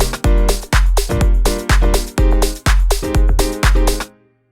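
House-style piano chord riff with some notes stripped out, repeating stabbing chords in a steady bouncy rhythm, loud and close, ending abruptly after about four seconds, no voices.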